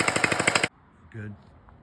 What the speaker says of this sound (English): Today we shot a gun.